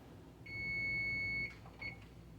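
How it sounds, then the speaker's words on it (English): A kitchen timer sounds with one long steady electronic beep lasting about a second, followed by a shorter second beep, close and clear over quiet room noise. "Our timer is about to go off."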